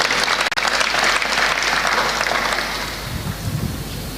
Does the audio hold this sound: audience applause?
yes